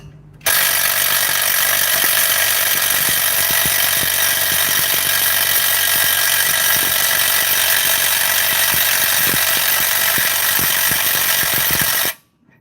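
A worn, underpowered impact driver runs continuously at close range for about twelve seconds, giving a loud, steady mechanical whir with a rapid rattling hammer pulse, then stops abruptly.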